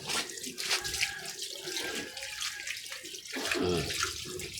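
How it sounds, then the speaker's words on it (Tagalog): Water runs from a tap as hands are rinsed clean of mud, a close splashing flow that shifts and gurgles as the hands move under it. "Hugas lang kamay."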